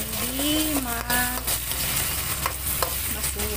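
A spoon scrapes and stirs sambal prawns with petai in a sizzling pan after salt goes in, giving steady frying hiss and clinks as a voice is heard briefly over the cooking.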